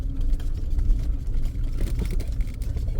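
Wind blows steadily across an open outdoor spot on a cold day, a continuous low rumbling buffet of gusts with no clear breaks.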